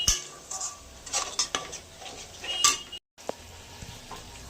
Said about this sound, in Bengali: ভালো করে নাড়াচাড়া করে দেবো, নাড়াচাড়া করে নামিয়ে দেবো।